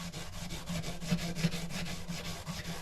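A fine white scouring pad rubs back and forth along a guitar fingerboard after sanding, giving a steady rhythmic scrubbing with about a dozen strokes. It is close but fairly soft, with a faint low hum underneath and no talking.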